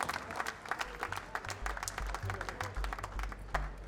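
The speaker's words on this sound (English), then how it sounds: "There's Brian's fiancée Sonia in the audience cheering him on." An audience at a poker tournament final table applauds, steady close clapping that holds strong throughout, with a low rumble of crowd noise underneath.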